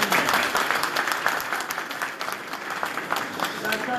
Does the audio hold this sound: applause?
yes